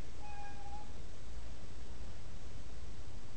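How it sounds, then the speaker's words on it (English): A neighbour's cat meows at a window to be let in, a short, thin cry near the start over a steady hiss of background noise, then nothing further. "if you heard that, that was a cat at the window"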